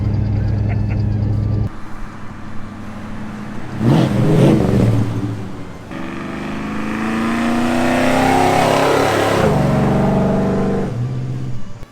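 A truck engine revs and accelerates hard, rising in pitch with a loud sustained roar, then the tone changes as it shifts gear.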